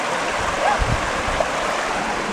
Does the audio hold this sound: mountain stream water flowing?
yes